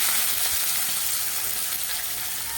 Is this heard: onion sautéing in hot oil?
yes